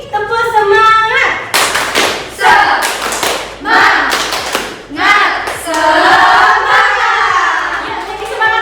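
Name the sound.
class doing a rhythmic spirit clap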